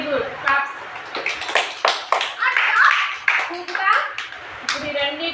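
Preschool children clap in a classroom, a burst of quick, uneven hand claps that is close and fairly loud, mixed with children's voices talking and calling out.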